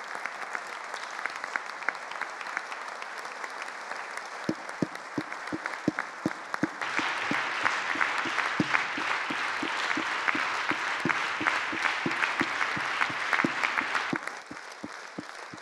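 An audience applauds students at a gathering on solidarity, starting with scattered claps, then swelling into fuller steady applause before easing off near the end.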